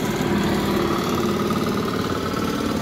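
A motorcycle engine idles steadily on a roadside, a close, even mid-pitched rumble with a constant throb and no change in revs over a few seconds.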